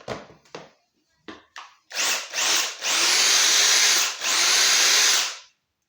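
A Bosch electric hedge trimmer buzzes loudly and steadily in three sustained runs after a few short bursts, each start revving up with a whirring high-pitched motor and reciprocating blades, close by with no talk.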